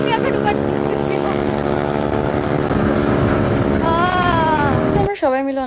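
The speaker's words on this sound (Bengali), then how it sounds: "আমি লিটারালি লাইক অনেক জোরে বাইক চালাইতেছি অ্যান্ড বলতে পারতেছি না" A motorbike ridden fast on a road produces a loud, steady engine drone with strong wind rush, the pitch rising near the end before it cuts down abruptly, and a voice is briefly heard.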